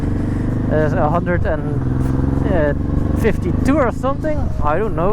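A home-built Honda Transalp supermoto motorcycle rides along with a steady, loud engine drone and wind rush throughout, while a rider talks over it close to the mic.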